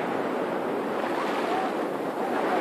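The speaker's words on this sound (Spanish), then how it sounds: "Las olas han estado bien bravas." Rough ocean waves break on the shore at Iztapa on the Pacific coast, a steady wash of surf with wind, moderately loud and continuous without speech.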